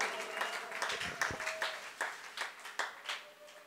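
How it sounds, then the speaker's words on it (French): A church congregation claps for the Lord in a steady, fairly even rhythm, a roomful of hands applauding at moderate loudness with no voices standing out. "Oh, acclamons très fort pour le Seigneur."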